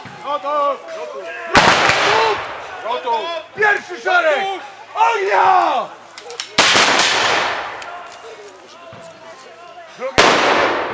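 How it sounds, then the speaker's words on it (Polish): Riflemen fire loud, sharp gunshots at a battle reenactment in Parcice, three separate cracks spaced several seconds apart that ring out over continuous commentary and crowd voices. "Strzelcy osłaniają ich ogniem."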